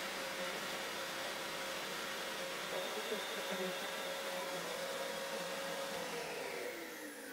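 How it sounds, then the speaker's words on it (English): Extractor fan running to clear the air inside a tank, a steady, fairly quiet whooshing drone with a faint whine that holds constant and eases slightly at the end. "I will leave the extractor on for a bit just to clear the air in the tank."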